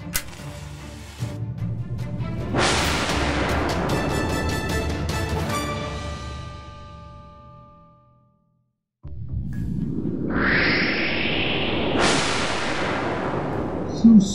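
Two loud, booming cartoon explosions in space with bright, sweeping swooshes, the first ringing out and fading into silence before another whooshing burst erupts.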